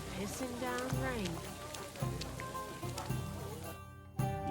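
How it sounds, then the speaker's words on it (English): Rain falls steadily in the medieval video game Kingdom Come: Deliverance 2, a constant hiss beneath someone speaking, with a brief gap before the downpour resumes. "Pissing down rain."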